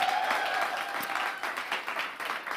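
Live applause from a church congregation, a dense wash of clapping with a few distinct claps standing out, steady and fairly close throughout.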